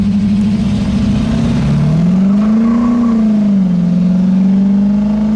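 A 1967 Pontiac Firebird convertible engine idles with a deep, steady rumble and rises briefly in pitch as it revs, then settles back down.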